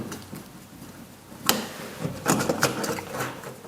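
The two fixing screws of a wall light switch are unscrewed after its cover comes off: short, close scraping and grinding bursts of metal turning, coming in uneven spurts over quiet room noise.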